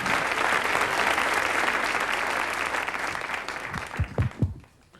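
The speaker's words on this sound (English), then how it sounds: "Let's have a big round of applause for all our other acts tonight." A comedy-show audience at a 1989 standup performance applauds loudly, thick continuous clapping that fades near the end, giving way to a few thumps and brief noises.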